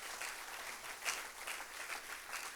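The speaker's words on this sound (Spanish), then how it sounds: "dele ese fuerte aplauso al Señor" Congregation applauding during a church sermon, a quiet, continuous patter of many hands clapping heard faintly and from a distance.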